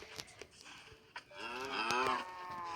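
Cows moo in Minecraft Bedrock Edition, with soft clicks and taps at first, then one long drawn-out low moo rising and falling, clear and close.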